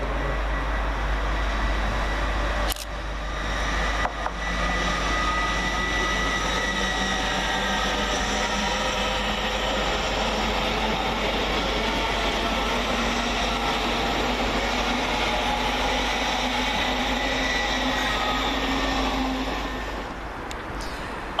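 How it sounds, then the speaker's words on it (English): An LNER Class 801 unit, 801-229, departs Peterborough station with a steady, moderately distant rumble and hum of traction and wheels that holds throughout, with a couple of sharp knocks early on. "departing in the opposite direction is 801-229, working the 1247 East the LNER service from Edinburgh Waverley to London King's Cross"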